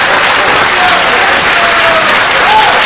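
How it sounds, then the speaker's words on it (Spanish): Steady applause from a small group of people at home, even and continuous clapping at fairly loud level with faint voices mixed in. "un aplauso"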